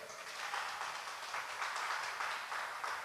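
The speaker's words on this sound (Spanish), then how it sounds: "Dale fuerte palmas al Señor." A church congregation claps together, producing a steady, fairly faint wash of applause from many hands that carries on throughout without pause.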